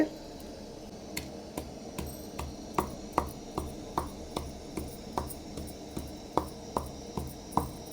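Garlic and coconut are pounded in a mortar: steady rhythmic pounding, a firm thud roughly every half second, with a faint hum in the background and no voices.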